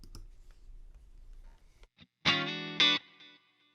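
A Fender Twin clean amp tone modeled on a Fractal FM3 rings out in two bright guitar chords, the second cut short, then lingering reverb and delay tails decaying into quiet after faint low rumble and clicks.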